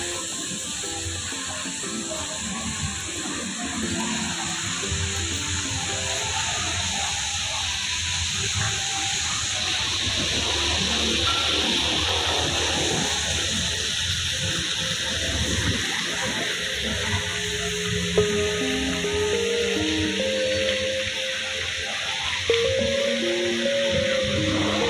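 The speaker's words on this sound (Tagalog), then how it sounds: "Flowing water." Water flows steadily in a relaxing outdoor spot, a continuous hissing rush that stays even throughout, with faint murmurs and other ambient sounds underneath.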